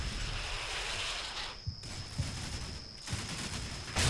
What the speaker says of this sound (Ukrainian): Дуже ураганний вогонь, дуже сильний.